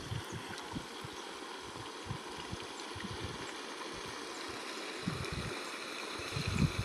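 Steady rushing and gurgling of floodwater draining from a waterlogged pigeon pea field through a pipe, with no engine or motor, continuous and close with occasional low thumps and splashes.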